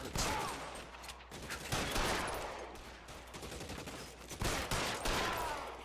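Repeated gunfire in the 1940s crime game L.A. Noire Remastered, bursts of sharp shots with echoing tails in an ongoing firefight, moderately quiet and without talk.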